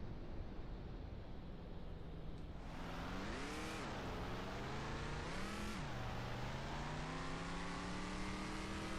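Truck engine in the farming game Ranch Simulator revving hard twice, a throaty, powerful roar rising and falling in pitch over a steady loud idle rumble, no talking.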